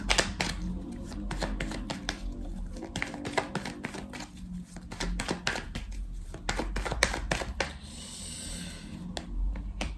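Tarot cards being shuffled and drawn close up: rapid papery riffles, flicks and soft taps in quick irregular bursts, fairly quiet, with no talk.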